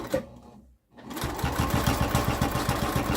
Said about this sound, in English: I'm gonna sew down the same way that I just went up.